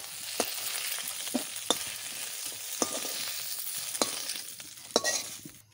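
Pointed gourd and spiny gourd pieces fry in a pan for a mashed bharta, a steady sizzle broken by sharp scraping stirs that recur about once a second, close by, with no talking.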